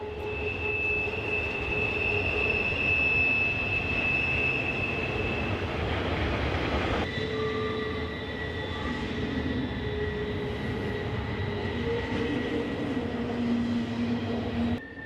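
A hotshot BNSF intermodal freight train rolls downhill through S-curves at Cedar Gap, Missouri. There is a steady rumble of wheels, with long, high, sustained flange squeals that shift pitch partway through, heard alone and fairly close.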